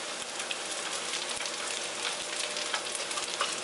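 Anchovies frying in cooking oil and syrup while being stirred, a steady, close crackling sizzle with fine spattering pops throughout, occasional soft stirring knocks, no talk.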